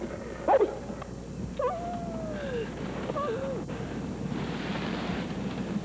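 Dogs whimper and yip while under tranquilizers, a few short cries followed by a long falling whine, then quieter whimpers over a low background hiss.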